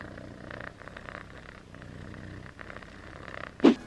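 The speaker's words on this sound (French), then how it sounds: "Ça ronronne en tout cas, je sais pas si vous entendez mais ça ronronne." A cat purrs softly and close by, a low steady rumble running throughout, ending with a brief louder rustle or squeak.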